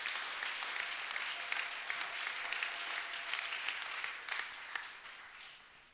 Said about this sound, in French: Est-ce qu'on peut acclamer encore très fort pour le Seigneur?